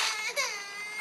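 A baby crying in the Roblox video game, with a wavering, whimpering wail that dips briefly before resuming, heard alone and fairly close.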